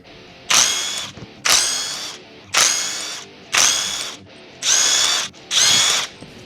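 Power tool bursts while removing the clutch springs from a Yamaha Banshee engine bottom end: six loud, evenly spaced whirring bursts of roughly half a second each, with brief quiet gaps between them and no talk.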